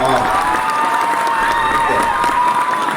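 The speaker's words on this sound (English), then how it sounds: "we got a clap button" A clap button on a studio broadcast sets off a canned applause effect: a continuous wash of clapping and cheering crowd noise lasting about three seconds, fairly loud and uniform.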